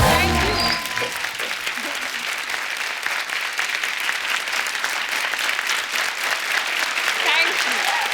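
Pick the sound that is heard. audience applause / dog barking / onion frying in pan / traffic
audience applause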